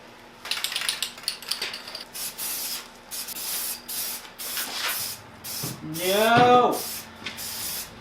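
Satin black spray paint hisses onto a car body in repeated short bursts, close and fairly loud, while a person talks briefly between the sprays.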